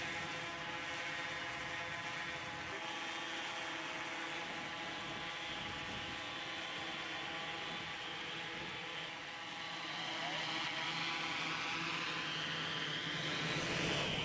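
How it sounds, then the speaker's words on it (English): Medical delivery drone carrying a kidney flies and lands at a hospital, a steady whining multi-rotor buzz with tonal harmonics rising slightly toward the end, faint and continuous with no talking. "aircraft has successfully landed"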